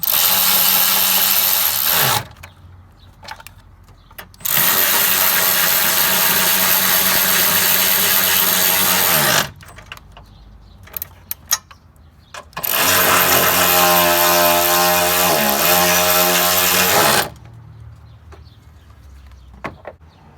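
A power tool tightens bolts during a battery change on a 2010-17 Chevrolet Equinox or GMC Terrain, running in three loud, sustained bursts separated by quieter gaps with faint clicks.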